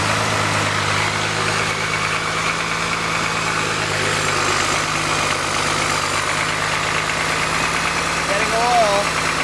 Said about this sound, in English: if you just cock it back a little and put the wrench in there, it idles it up enough